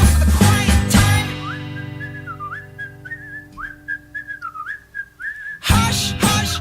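A person whistles a wavering melodic line in a song, alone between louder full-band musical passages at the start and end.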